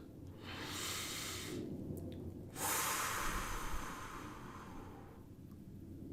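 Deep breaths taken slowly during a guided eyes-closed relaxation exercise, two long airy inhales or exhales with a pause between, close and steady with no talking.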